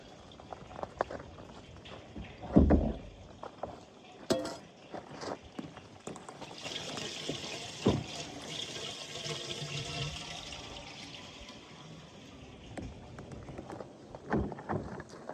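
Water runs and splashes while equipment is rinsed out on a homestead, faint and uneven, with scattered knocks and clatter and a sustained rush of flow partway through.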